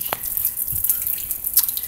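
Rain slowing after a thunderstorm leaves a few distinct drips, two sharp drops standing out over soft, steady patter and faint background hiss.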